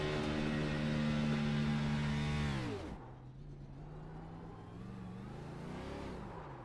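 A race car in an Xfinity series racing game at Atlanta does a victory burnout. The engine holds a loud, sustained high rev for about three seconds, then drops sharply to a lower, droning rumble that swells slightly near the end.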